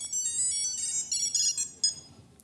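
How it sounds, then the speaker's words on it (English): A Cube Shadow Bluetooth tracker rings in a bright electronic chirping, rapid repeating melody, fairly close and clear, then breaks into a few short separate beeps before fading. "I'm ringing your Cube remote."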